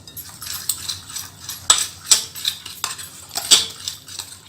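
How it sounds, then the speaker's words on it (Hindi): Kebab marinade with green chutney and a little oil being mixed in a bowl for tikka boti kebab, with a spoon clinking and scraping against the dish in several sharp knocks over soft stirring. "सबको अच्छा सा हमने मिक्स करना है।"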